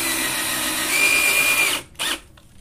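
A power drill drives a screw into a homemade wooden workbench, a steady loud whine for nearly two seconds that cuts off, then a brief second burst, close up with no voices.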